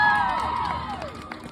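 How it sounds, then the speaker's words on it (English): Convention panel audience at Anime Impulse 2022 responds in a burst of crowd noise, cheering and shouting with clapping mixed in, loudest at the start and fading over about a second and a half, with a few voices on top. "Clap your hands if you've been a fan for at least 1 year."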